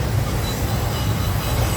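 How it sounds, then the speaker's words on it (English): An FEC freight train passes close by, a loud steady rumble of rolling railcars and wheels on track with no talking over it. "Hear the train,"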